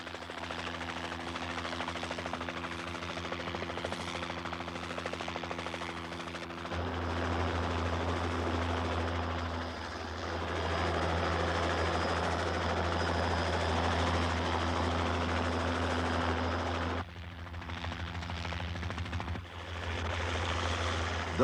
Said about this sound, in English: tons of material and even men are transferred to land by helicopter airlift.